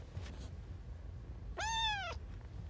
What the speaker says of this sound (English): Why do you meow like you're getting tortured?